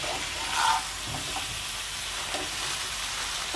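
Ridge gourd fries in a pan after salt and turmeric are added, giving a steady soft sizzle throughout with a brief louder stir or scrape near the start.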